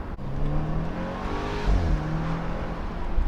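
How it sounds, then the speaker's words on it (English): A BMW Z4 roadster engine revving and pulling, a steady throaty drone rising in pitch, close and fairly loud. "Was not expecting the engine to sound like this."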